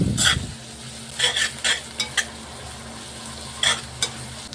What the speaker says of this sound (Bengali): পেঁয়াজটাকে মিডিয়াম আঁচে আস্তে আস্তে করে ভেজে নেব, যত সময় না পর্যন্ত লাল এবং একটু মুচমুচে হয়ে যায়।